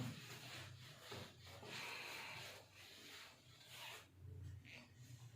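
A duster rubs writing off a classroom board during a lesson, making faint, continuous scratchy scrubbing strokes that rise and fall in waves.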